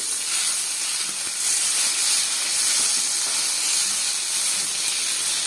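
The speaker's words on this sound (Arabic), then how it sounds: "هننزل بمعلقتين الطماطم البيوريه، انتوا شايفين، نشوح" Tomato purée sautés in a pan for a freekeh and meat tagine, giving a steady bright sizzling hiss throughout with no speech.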